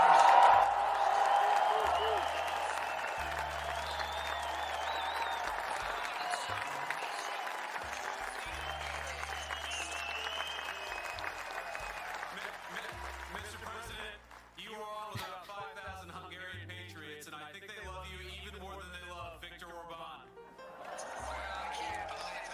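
A huge crowd of Hungarian supporters cheers and applauds loudly, heard through a phone held up to a microphone, the roar fading over time, and then a voice speaks over a thinner murmur.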